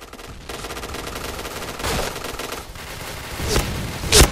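Bursts of rapid gunfire crackle in sharp clusters, with a loud final volley near the end, sounding like shooting in a video game.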